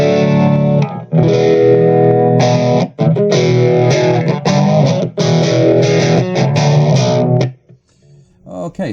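An electric guitar plays through a Blackstar ID Core 20 amp with a gentle phaser effect, sounding as loud sustained chords broken by a few short pauses before the playing stops, with no talking.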